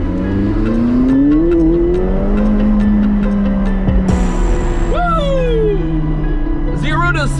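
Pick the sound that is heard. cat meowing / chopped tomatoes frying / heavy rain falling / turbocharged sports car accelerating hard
turbocharged sports car accelerating hard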